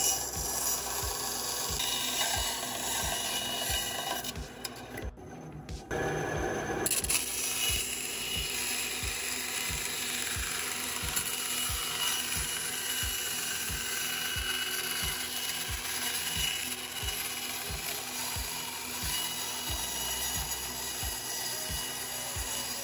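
A bandsaw slices through a plastic AT-ST walker model, a rapid ratcheting, rattling blade chatter running steadily and close with a brief pause partway through, with no voices.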